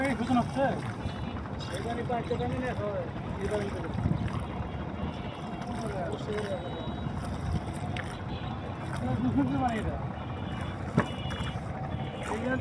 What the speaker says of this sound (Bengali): ঢাকার ভিতরে নৌকায় ওঠা।